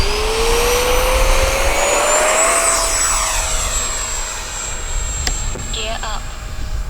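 A Freewing A-6 Intruder 80mm RC jet flies past loudly, its turbine whine sweeping upward in pitch before holding a steady high drone, with brief voices toward the end.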